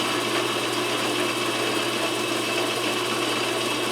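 A metal lathe cutting a thread on a shaft with the half nut engaged, a steady loud mechanical hum and whir with constant gear noise, continuous and close, with no speech.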